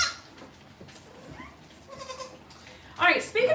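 A farm goat lets out a sharp, close bleat near the end after a stretch of quiet talk and faint background noise.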